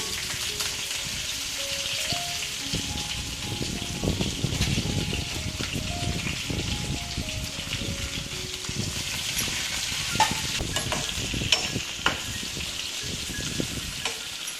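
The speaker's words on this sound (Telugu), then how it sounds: "తాలింపులో పచ్చిమిరపకాయలు, అలాగే తరిగి పెట్టుకున్న ఆనియన్స్ కూడా వేస్తున్నాను." Green chillies and chopped onions frying in hot oil with cumin for a tempering, a steady crackling sizzle with occasional stirring scrapes and pops, soft background tones, no voices.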